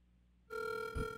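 Telephone ringing on an outgoing call to a public commenter during a city council meeting, a single ring tone starting abruptly after silence and holding steady, fairly faint.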